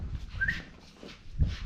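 A dog whimpers in short, faint whines outdoors, with a couple of soft thumps and light rustling around it.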